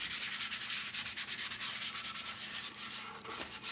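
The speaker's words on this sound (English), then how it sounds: "Just doing some sanding over here" Rhythmic scratchy rubbing of sandpaper on a wooden guitar body, quick back-and-forth strokes repeating steadily, close and fairly loud, no talking.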